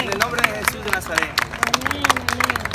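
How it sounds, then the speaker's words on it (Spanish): A congregation on a Holy Land trip claps irregularly, a scattered patter of hands near and far, with voices and singing underneath. "Aplausos a nuestro Dios."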